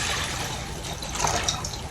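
Water poured into a pot of milk for semolina porridge in a village home kitchen, a soft steady splashing and trickling that runs close and continuous for about two seconds with no talk.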